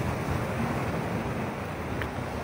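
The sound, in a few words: ocean waves at Cenang Beach, Langkawi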